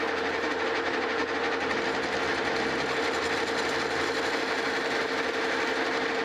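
Metal lathe facing a welded cane mill roller shaft, giving a continuous even machining hum with a steady tonal whine and faint cutting chatter, close and uninterrupted.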